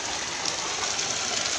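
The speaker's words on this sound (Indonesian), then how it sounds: "Dari atas, masih hujan." Rain falls on an outdoor private warm-water swimming pool in Guci, Tegal, as a dense, even hiss with no pauses and no voices.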